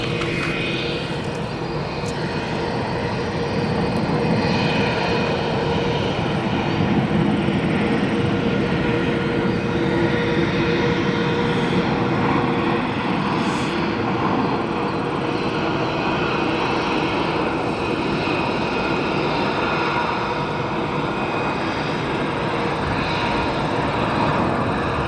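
A United Airlines Boeing Dreamliner arriving from Frankfurt at Chicago O'Hare Airport gives a steady, broad jet roar that holds at an even level across the whole stretch with no voices.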